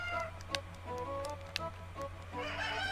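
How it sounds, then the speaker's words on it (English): Chickens in the RPG Maker Fes game on Nintendo 3DS cluck softly in short repeated bursts over a constant low background hum. "These chickens here just make noises and run away."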